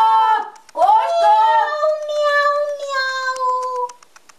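A voice imitating a cat meowing in a telling of the Russian turnip tale, three drawn-out, sliding meows, loud and close, delivered alone.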